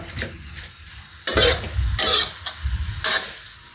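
Beef stir-fried with scallions and dill in a hot pan, close sizzling with repeated scraping strokes of a spatula, in uneven bursts and no talking.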